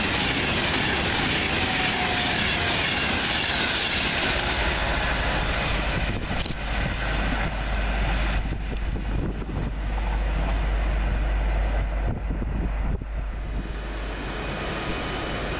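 A Class 390 train, unit 390-130 running from London Euston to Liverpool Lime Street, rushes through Watford Junction station at speed with a steady loud roar and rumble throughout, rattling and swelling before easing slightly at the end.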